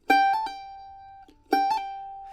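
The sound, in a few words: mandolin hammer-on pull-off on A without extra pick stroke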